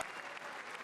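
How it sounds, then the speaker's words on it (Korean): Republican lawmakers give a standing ovation as President Trump arrives for his State of the Union address, a brief, dense burst of crowd applause filling a large chamber. "공화당 의원들의 기립박수와 환호 속에 등장한 트럼프 대통령"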